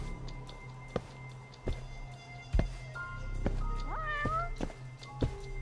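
Several meows and a drawn-out caterwaul from a cat in the video game Judgment, mid-distance over a steady low hum, with sharp thumps and clicks scattered throughout.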